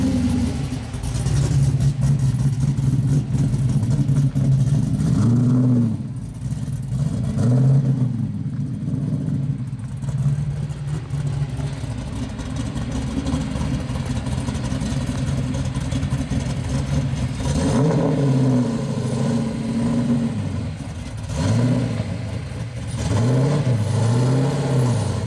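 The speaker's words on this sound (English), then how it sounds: "a 1970 Nova Street Machine" A 1970 Chevrolet Nova street machine's engine idles with a deep, steady rumble, swelling into several throttle blips and revs that rise and fall in short bursts, loud and close throughout.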